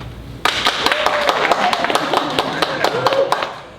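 A group of students in an audience at a comedy night claps along, sharp individual hand claps starting abruptly and continuing unevenly, with some voices and a cheer mixed in.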